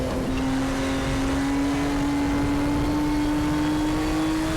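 A touring classic race car in RaceRoom Racing Experience laps Sonoma, its engine holding a steady, high, continuous drone with a slowly rising pitch, loud and close throughout with no talking.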